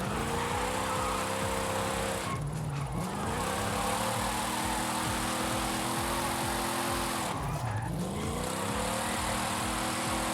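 A Dodge Challenger in Forza Horizon 5 drives and drifts with a steady, loud engine drone throughout, its pitch sagging and climbing again twice as the car slides and recovers.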